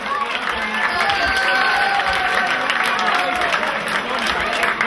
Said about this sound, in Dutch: Een geweldig applaus voor iedereen die gedoneerd heeft.